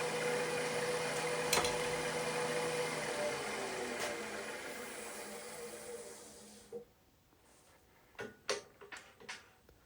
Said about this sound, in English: Here, using the spindle gouge in tight quarters, I decided to go with a very narrow parting tool